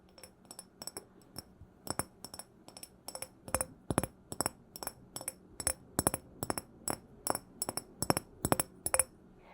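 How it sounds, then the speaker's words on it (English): A small glass pumpkin is handled and tapped, giving a quick series of bright, close clinks at an irregular but steady pace, soft overall and with no talking. "I do have this cute little glass pumpkin for the season"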